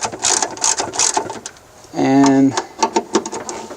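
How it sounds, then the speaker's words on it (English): A ratchet removes the windshield wiper motor mounting bolts on a 1989 Chevy K1500 Silverado, giving a short, close whirring rattle among lighter clicks. Someone talks around it. "remove the 3 mounting bolts"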